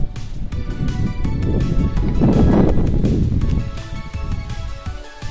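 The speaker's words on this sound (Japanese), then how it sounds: "すごい追い風です。" Strong wind roars and buffets against the microphone while cycling a mountain bike over a bridge, in a loud, continuous rush that swells in the middle.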